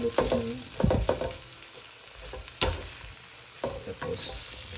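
Broccoli stirred and reheated in a hot pan for a vegetarian dish, with sharp utensil scrapes and clatters over a steady close sizzle, including a burst near the start and others spaced through.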